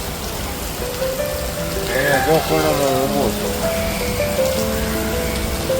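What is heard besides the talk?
heavy rain falling during a bike ride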